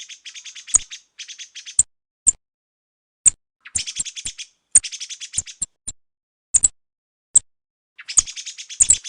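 A song thrush sings alone, delivering bright repeated phrases and sharp chirps in bursts separated by short silences, clear and close.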